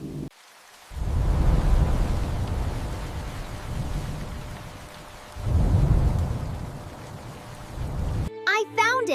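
Cartoon rain falls in a steady hiss while deep thunder rumbles swell twice, loud and close. A brief high-pitched cartoon voice cuts in at the very end.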